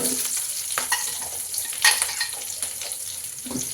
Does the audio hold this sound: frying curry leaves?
yes